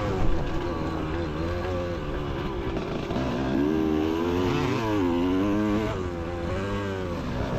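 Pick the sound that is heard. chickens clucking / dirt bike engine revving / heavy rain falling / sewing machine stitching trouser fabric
dirt bike engine revving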